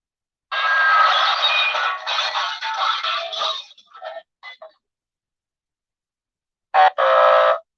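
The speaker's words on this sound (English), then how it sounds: "That's a thumbs down sound." Thumbs-down sound effect from a handheld sound machine: a loud buzzy, croaking electronic tone lasting about three seconds, breaking into short stuttering bursts, then a brief final buzz after a pause.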